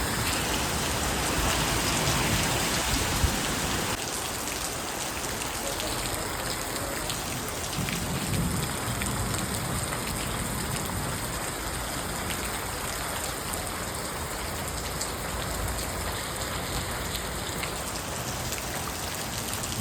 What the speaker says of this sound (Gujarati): નુકસાનીનો વરસાદ પડે આમ તો.